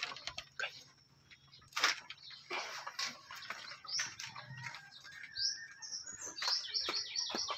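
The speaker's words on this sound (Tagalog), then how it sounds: "may pasisiw na yan" Newly hatched chicks in a breeding pen give repeated high, thin chirps and peeps, close and fairly steady, with a few brief louder calls and low background hum.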